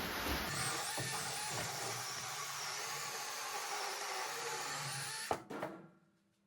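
A cordless 8-inch saw whines at high speed for about five seconds, its pitch shifting under load, then cuts off and spins down to silence.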